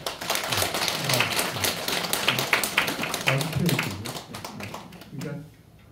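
An audience claps together at an Advent lecture given by a priest, a dense run of hand claps lasting several seconds with voices mixed in, then fading out.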